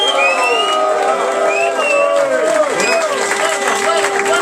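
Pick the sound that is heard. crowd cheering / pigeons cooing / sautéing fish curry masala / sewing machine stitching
crowd cheering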